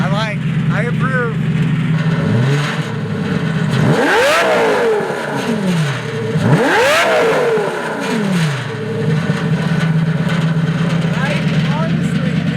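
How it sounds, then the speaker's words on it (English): A Lamborghini Gallardo fitted with an extremely loud aftermarket exhaust idles with a deep, steady rumble, broken by two sharp throttle blips that rise and fall, with a person speaking over the engine. "just idling, I can't believe how loud the car is"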